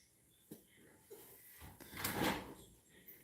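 A house door is opened, heard quietly as a few soft clicks and knocks, then a brief swelling rush of air or sliding movement.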